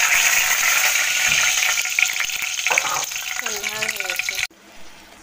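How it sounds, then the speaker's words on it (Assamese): Spice paste for egg curry is tipped into hot oil and fries with a loud, close, steady sizzle and some stirring, and a voice talks over it before the sound cuts off sharply near the end. "এয়া তেলখিনি গৰম হৈ যোৱাৰ পিছত মই পেষ্টখিনি কৰি থোৱা পেষ্টখিনি ঢালি দিলোঁ ইয়াতে"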